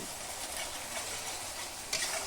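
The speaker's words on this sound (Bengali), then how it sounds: "গ্যাসের ফ্লেমটা একদম লো রেখে এই মশলাটাকে আমি দু থেকে তিন মিনিটের জন্য ভালো করে কুক করে নিয়েছি" Spice paste for a Bengali drumstick (sojne data) curry fries in oil over a very low gas flame, making a soft continuous sizzle with a brief brighter burst near the end, quiet and without speech.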